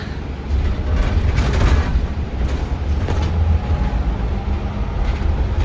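A long-distance bus rolls through the countryside between Crema and Milan in Italy, giving a steady, loud low engine and road rumble with a continuous hiss and occasional rattles, and no voices.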